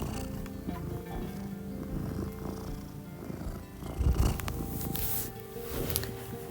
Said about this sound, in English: That's my cat Zipper interfering with my audio